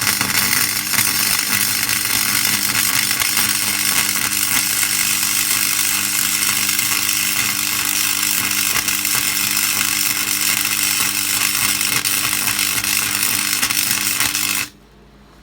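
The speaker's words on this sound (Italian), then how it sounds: "proverò a fare un cordone di saldatura in questo punto. Dovete sentire il rumore, deve diventare fluido" A Parkside flux-core wire welder running without gas lays a weld bead with a loud, steady crackling buzz and an underlying hum. The sound runs unbroken for about fourteen seconds, then cuts off abruptly.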